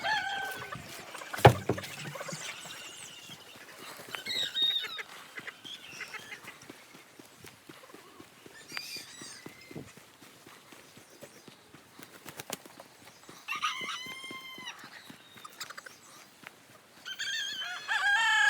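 Roosters crow and chickens cluck around a farm's chicken operation, with a loud crow several times over quieter ambient scratching and movement, no talking.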